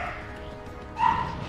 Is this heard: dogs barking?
yes